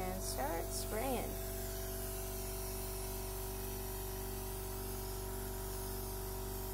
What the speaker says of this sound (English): So I just pour this in, make sure it's coming out, and start spraying.